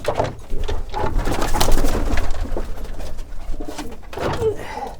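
Racing pigeons, including a race-winning bird, coo and call in a loft, with soft low cooing and rustling throughout and no talk.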